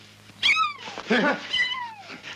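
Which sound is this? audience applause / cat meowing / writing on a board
cat meowing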